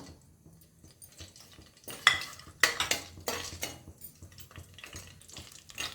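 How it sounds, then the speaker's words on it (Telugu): Whole biryani spices dropped into hot ghee in a pot and stirred, with a soft sizzle broken by sharper scraping and clinking strokes of a spoon against the pan. "ఇప్పుడు మనం ఈ బిర్యానీ పైసెస్ అన్నీ వేసుకుందాం"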